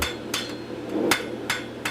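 Light hammer blows strike hot steel on an anvil while tongs are forged, five or six sharp ringing hits at an uneven, unhurried pace, close and clear with no talking.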